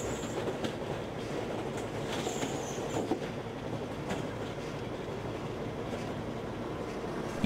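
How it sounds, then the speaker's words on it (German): Track renewal train laying new railway sleepers, which slide one after another over a conveyor into the ballast bed on a rail line renewal: a steady, dense mechanical rumble with faint clanking and squeal accents, continuous throughout. "Die neuen Schwellen rutschen nacheinander über ein Förderband ins Schotterbett."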